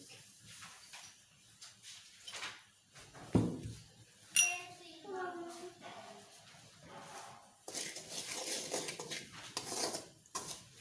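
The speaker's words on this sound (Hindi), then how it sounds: "सूजी को डाल के सूजी को चलाते रहना है।" Dry semolina being stirred in a pan, roasted without ghee, with scraping and clinking of the utensil against the pan while a person talks throughout.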